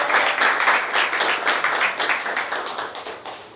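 An audience at a football club gathering breaks into loud, sustained applause, many hands clapping close and dense before gradually tapering off.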